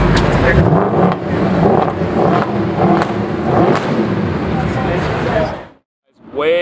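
Ford GT supercar accelerating hard at a Gumball rally launch, a loud sustained engine roar close by with crowd voices underneath, cutting off abruptly near the end.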